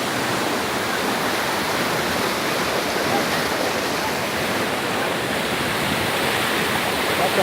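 Waterfall at Cachoeira do Corococho in Piabetá, Rio de Janeiro: a steady, loud, broadband roar of falling water that fills the whole stretch with no other sounds.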